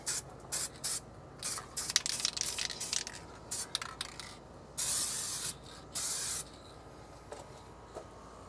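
Spray gun laying a base coat on the undercarriage of a 1965 Ford Mustang, heard as repeated bursts of hissy spraying of varying length, close and loud, with brief pauses between passes.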